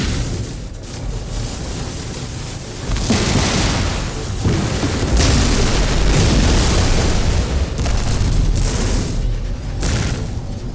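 Explosions as ship pods are blown apart in the space game No Man's Sky, a dense run of loud booms and bursts with rumbling blasts, crackle and pops overlapping over about ten seconds.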